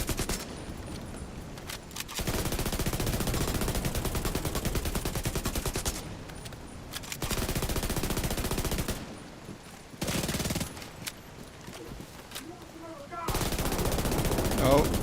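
Sustained machine-gun fire from an enemy helicopter in the video game The Division 2, long loud rattling bursts broken by short gaps, with a voice talking faintly in the background.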